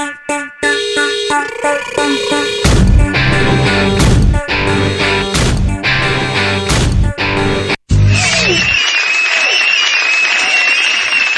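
Following a mixed group dance performance, loud rhythmic music with heavy beats gives way to a bright sustained tone and crowd noise, with applause mixed into the loud, full sound.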